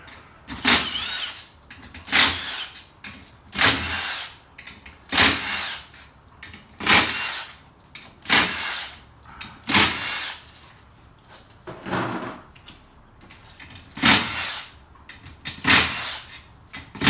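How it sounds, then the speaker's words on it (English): Impact wrench with a 13 mm socket backing bolts out of a beadlock ring on a UTV wheel, about a dozen loud close bursts of rattling whir at a steady rhythm, each separated by a short pause. "Now I'll take my impact, switch from my 19 millimeters, which my lugs are, to a 13. And I'll just simply take all these out."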